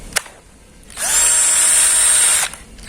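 A Ryu RCD 12V cordless battery drill runs alone at steady speed for about one and a half seconds, with a smooth high-pitched whine. A short click comes before it starts, and the motor winds down at the end.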